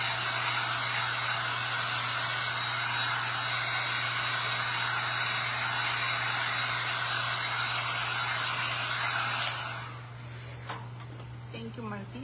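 A hair dryer blasting at close range over a decoupaged Dollar Tree plate, a loud steady rushing whoosh that cuts off near the end, leaving a few small clatters.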